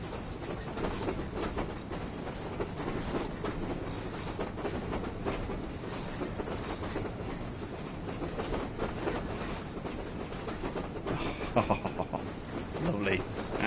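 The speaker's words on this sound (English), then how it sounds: "I love that clickety-clack noise as well that these classic coaches make" Classic railway coaches in the Train Sim World game on the West Somerset Railway roll along with a steady rumble and a rhythmic clickety-clack from the rails, with a brief higher tone near the end.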